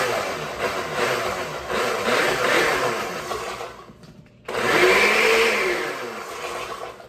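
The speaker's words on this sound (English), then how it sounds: "I'm gonna add them into my blender, which is just over here on the side, which you really can't see me, but you'll be able to hear it." A kitchen blender whirs loudly as it purees garlic and salt, a steady motor roar that briefly cuts out near the middle, then surges back and runs on to the end.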